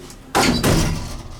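A vintage Otis traction service elevator door slides shut with a loud, close thud, followed by a second heavy clunk and a rumbling settle that fades over about a second.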